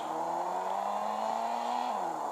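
A steady engine whine holds a constant pitch, rising slightly near the end before dropping, with no voices.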